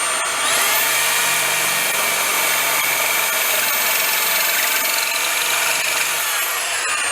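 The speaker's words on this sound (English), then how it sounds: "we're drilling the holes directly into the brickwork" An SDS drill bores holes into exterior brickwork for guttering brackets, a loud steady high-pitched grinding whine that holds for several seconds without pause.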